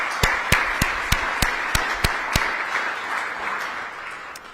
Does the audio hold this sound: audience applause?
yes